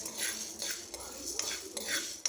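Chilies being stirred as they roast in a pan over a slow flame, with scraping and clinking of a utensil against the metal in several separate strokes, fairly quiet and close, with no talking.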